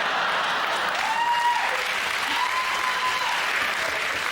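Studio audience applause on a comedy panel show, a steady dense wash of clapping held at a constant level throughout, with faint whistled tones rising above it.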